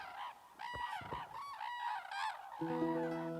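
Loud, bugling calls of red-crowned cranes in Japan ring out in repeated bursts, harsh and trumpeting, with several birds calling together up close.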